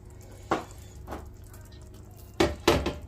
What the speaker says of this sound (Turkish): Ben bugün yumurtaları hafifçe karıştırarak pişiriyorum